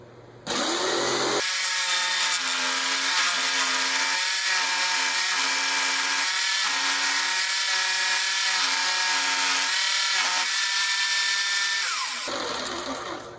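Homemade inverted jigsaw, a Rockwell Bladerunner-style build, switches on and runs with a loud steady buzzing whine while cutting wood, ending with a clack as it stops; no talk.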